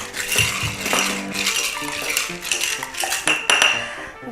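A berry mojito with rum and ice being stirred in a glass, bright clinking and rattling of ice cubes against the glass and spoon in quick irregular bursts, close and clear without speech.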